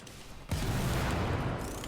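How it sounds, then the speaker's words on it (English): A sudden, heavy explosion in the Warframe video game erupts after a quieter moment, its rumbling blast sustained and roaring for over a second before easing slightly. "that was a mighty explosion"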